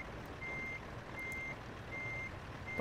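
Repeating reversing beeps from an American Truck Simulator rig being parked, four evenly spaced tones over a steady low engine rumble, fairly close and moderately loud with no talking.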